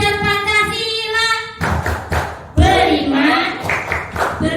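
A group of people performs the rhythmic Pancasila clap chant, sharp hand claps bursting in patterned clusters between stretches of chanted voices. The claps are close and loud, with the chanting running alongside them.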